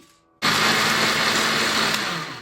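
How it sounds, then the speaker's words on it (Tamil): A blender kicks on abruptly after a brief quiet moment and runs loud and steady, grinding soaked urad dal with water with a harsh, even whir. "உளுந்து அரைக்கும் போது கொஞ்சம் தண்ணி கூட விட்டு அரைக்கணும்"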